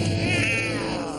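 A cartoon cat yowls while shut in a bag, one short drawn-out wavering cry heard at close range.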